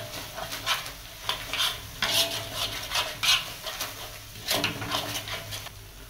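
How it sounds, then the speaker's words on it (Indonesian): Spoon scraping and stirring through a pan of frying food with sweet soy sauce, repeated clinking strokes over a steady low sizzle, close and moderately loud. "Kemudian kita aduk-aduk. Kita aduk sampai merata."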